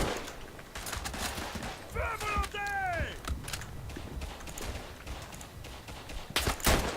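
Rifle and machine-gun shots crack repeatedly across a World War I battlefield in the game Verdun, scattered bursts near and far over constant din, with a voice talking.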